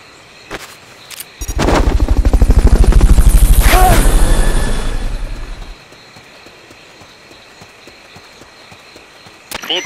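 A helicopter rotor beats loud and fast in Metal Gear Solid Peace Walker, swelling in, holding strong for a few seconds, then cutting off abruptly.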